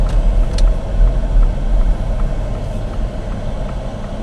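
A car driving along a road during a driving test while braking lightly, giving a steady close engine and road rumble throughout with no talk.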